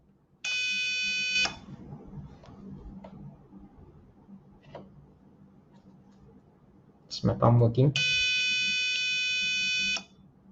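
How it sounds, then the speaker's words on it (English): Shrill electronic buzzer in an Arduino relay circuit sounds in two loud, steady bursts, one short and one longer, separated by quiet clicks and handling noise, with a person talking between the bursts. "Okay, let me turn off my buzzer."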